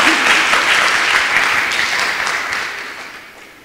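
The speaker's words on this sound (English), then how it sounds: "He deserves a round of applause as well." Loud, dense applause from a crowd at an evening memorial lecture, steady at first and then gradually tapering off.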